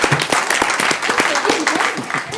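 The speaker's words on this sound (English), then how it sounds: "Let's give him a round of applause." A city council meeting audience claps for a member's birthday, a short burst of scattered, uneven clapping with some voices mixed underneath.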